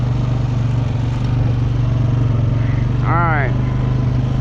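A four-wheeler ATV engine runs steadily close by, a continuous low mechanical drone with a faint whine, while a person speaks briefly over it.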